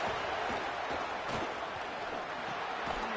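A stadium crowd roars steadily in a Michigan versus USC college football video game, a dense continuous wash of cheering noise at fairly even loudness throughout, with no distinct voices standing out.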